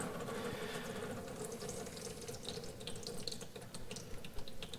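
Hydraulic fluid drains from a tractor during servicing, a steady trickling, splashing flow like a running tap, heard close up with no talk.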